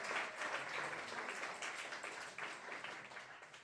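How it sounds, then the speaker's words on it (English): Audience at a live show breaks into applause, a dense, fairly faint patter of many hands clapping that holds steady and then begins to thin out toward the end. "Give them a big round of applause."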